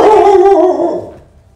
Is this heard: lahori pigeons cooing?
no